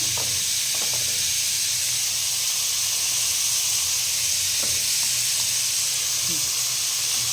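Masala with chopped tomato sizzles and hisses steadily in a handi while lentil dal is prepared, the frying noise close and even, with a few soft utensil taps scattered through it.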